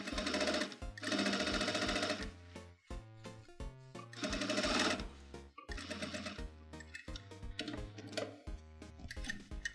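A home sewing machine stitches a denim jeans hem in several loud, steady mechanical runs, each burst of rapid needle clatter broken by short pauses between passes.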